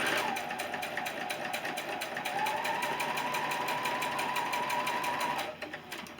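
A sewing machine stitching a quilt block seam runs in a fast, steady close-up whir of rapid needle strokes for about five seconds, then slows and stops.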